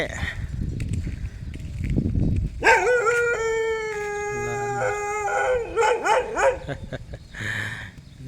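A dog howls loudly and close by in long, wavering, rising-and-falling calls, with short yips after the first howl and rustling around it.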